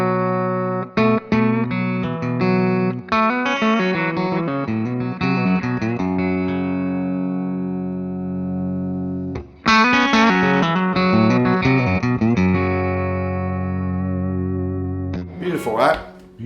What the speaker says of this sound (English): Now I'm going to go all the way back to the Fender sound, as close to Fender as I can get here.